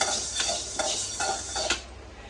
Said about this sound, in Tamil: கருவேப்பிலையும் போட்டு அதையும் வறுத்துக்கணும்